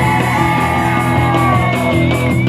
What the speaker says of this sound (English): I just wanted you guys to scream for the band one time.